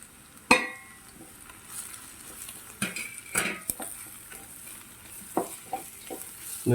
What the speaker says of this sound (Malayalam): നമുക്കൊന്ന് റോസ്റ്റ് ചെയ്തെടുക്കണം ഒരു അല്പം ഡാർക്ക് കളറാകുന്നിടം വരെ